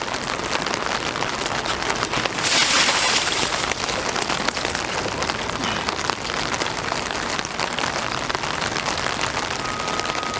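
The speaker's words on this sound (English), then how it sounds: "The station is under great stress from the rain" Heavy rain pounds a station roof in a steady, dense hiss that runs throughout, with a louder surge of downpour partway through.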